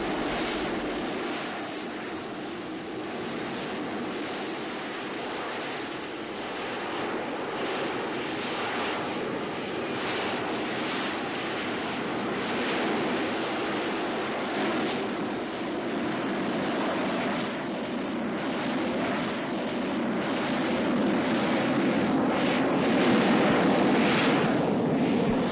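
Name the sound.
Harrier jump jet aircraft engine roar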